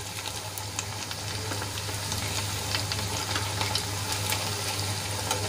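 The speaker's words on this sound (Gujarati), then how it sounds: "પલટાવ્યા બાદ આપણે બંને બાજુથી ક્રિસ્પી થાય ત્યાં સુધી તળી લેવાનો છે." Potato snack frying in a pan, a steady close sizzle with faint crackles and a low hum underneath, continuous without any talk.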